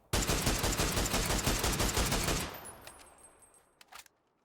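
Sustained automatic rifle fire in the shooter game PUBG, a loud rapid burst of shots lasting a couple of seconds, then a few quieter mechanical clicks and clatter as it stops.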